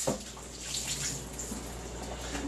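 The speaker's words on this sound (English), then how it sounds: "now I'm about to wash out the same pan that I was just using" Steady, close running water from a tap pours over a baking pan being washed out, a continuous hissing rush with faint handling knocks.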